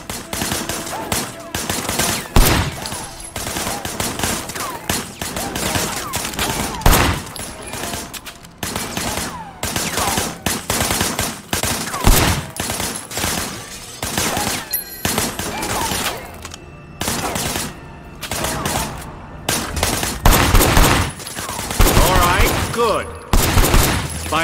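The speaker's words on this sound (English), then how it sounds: "I want you to put some bullets in a few things." Heavy sustained gunfire from a shootout in the video game Sleeping Dogs, with rapid bursts and repeated shots loud and close throughout, some speech mixed in.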